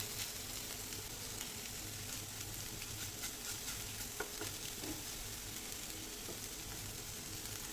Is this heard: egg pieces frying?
yes